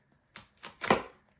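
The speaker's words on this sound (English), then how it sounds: "I'm gonna have to cut this open." A package of label stickers being cut open by hand: three short, crisp cutting or slicing strokes close by, the last one longer and louder.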